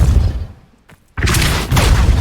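Depulso force spell striking in Hogwarts Legacy, a sudden heavy boom and thud after a brief near-silent pause, followed by a rumbling tail, loud and close.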